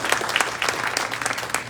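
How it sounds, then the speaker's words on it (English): Audience members at a spring fashion show in Iowa City clap for a model, a short burst of scattered, uneven applause from a modest crowd. "Let's give her a round of applause."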